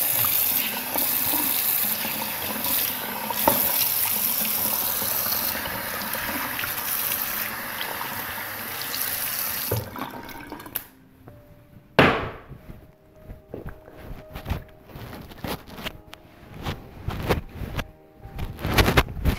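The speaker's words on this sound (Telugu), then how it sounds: "నేను ప్రస్తుతానికి వాష్ చేసుకుంటున్నాను" Running water splashes continuously as a face is washed off after a papaya and honey face pack. Water and rubbing sounds fill the first half, then come quieter, scattered clicks, taps and drips.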